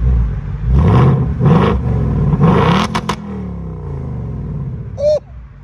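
A 2024 Ford Mustang GT engine revs hard several times in rising surges, then settles back to a rumbling idle. It is loud and close, with a brief whirring sound near the end.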